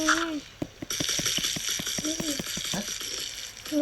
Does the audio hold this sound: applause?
no